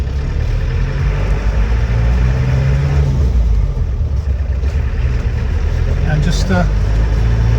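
A 1988 Land Rover 110 soft top with a 200TDi diesel and LT77 gearbox pulls away on a warm day, its steady low engine drone loud and close throughout, with someone speaking briefly over it.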